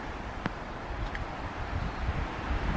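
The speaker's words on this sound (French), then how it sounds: "Il y a du vent" Wind blowing outdoors during a house move, buffeting the microphone with a steady low rumble and a few faint rustles and clicks, with no talking.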